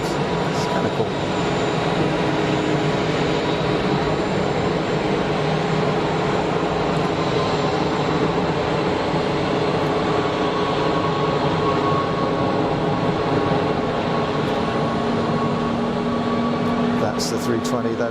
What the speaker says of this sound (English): The 320, that is Tenerife bound. easyJet Switzerland, Swiss registered.